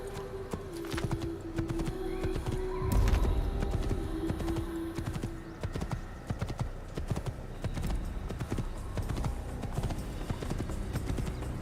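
Horse hooves clip-clopping in the Assassin's Creed video game, a steady, moderately close trotting rhythm that runs throughout amid a busy game soundscape, with a low rumble and a brief tonal hum early on.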